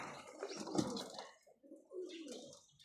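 Pigeons cooing softly at a farm with flowers and livestock, a couple of low throaty coos with faint chirps, fairly close but quiet, no people talking.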